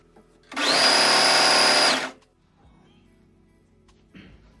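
A sewing machine stitches a half-inch seam on the sleeve of a princess-cut blouse, one loud, steady whirring run of about a second and a half, then near silence with a few faint clicks.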